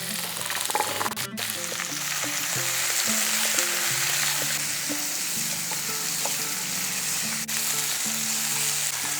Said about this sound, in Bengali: এই সমস্ত জিনিসটাকে একটু ভাজা ভাজা করে নেব।